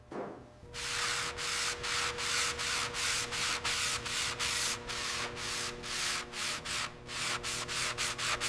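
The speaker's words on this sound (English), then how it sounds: "I'm using a fine grit tool to remove the corrosion" Fine-grit tool sanding rust off the trunk seam of a 1948 Tucker Torpedo, a close, steady rhythmic rasping in quick even strokes that runs continuously with no talk.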